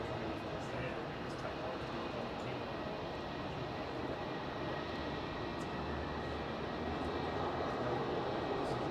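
A Sri Lankan Airlines airliner rolls for takeoff at Melbourne International Airport, a steady broadband engine roar that holds at an even level and swells slightly toward the end, with no voices over it.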